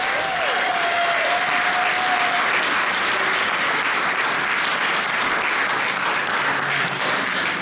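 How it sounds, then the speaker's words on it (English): An audience at a 2019 hall of fame induction gives the performers steady, dense applause. It sounds full and sustained throughout, with a faint tone early on and no clear talking. "give them a nice round of applause"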